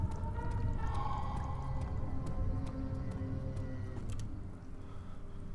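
A low, drawn-out monster growl from Amnesia: The Dark Descent, moaning and wavering under a dark droning ambience, moderately loud and without speech.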